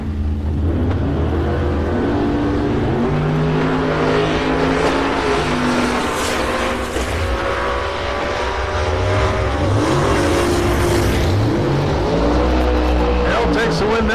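Drag race cars at TriState Raceway roaring down the strip, loud engines droning and revving with shifting pitch, while an announcer talks over the racket.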